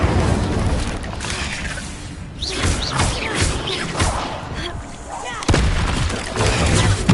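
Incendio fire spells are cast in the Hogwarts Legacy video game during a spider fight, with dense, repeated whooshing bursts and thuds under ongoing combat noise and voices.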